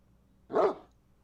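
A single short dog bark, fairly close and loud, rising out of a quiet background with no voices.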